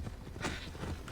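Horse hooves clopping in the video game Assassin's Creed Odyssey, a quick run of soft rhythmic hoofbeats lasting about a second at moderate level.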